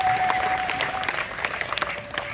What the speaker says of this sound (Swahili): Naomba mwapigie makofi hawa walimu.